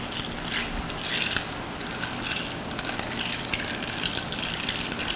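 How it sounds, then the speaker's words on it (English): Mint julep being stirred in a glass packed with ice, sugar, mint and bourbon, a busy rattling and clinking of ice cubes against the glass throughout, close and fairly loud with no talking. "let's give it a stir."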